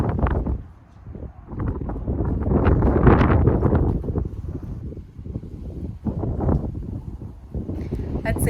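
Strong wind gusting outdoors, loud buffeting rushes hitting the microphone in waves that swell and ease, with speech audible underneath.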